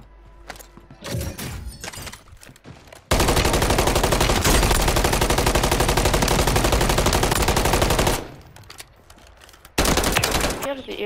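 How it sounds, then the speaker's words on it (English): Sustained automatic gunfire in Warzone 3, a loud continuous burst of rapid shots lasting several seconds, framed by short bursts of nearby shots and movement sounds before and after. "I'm being shot at."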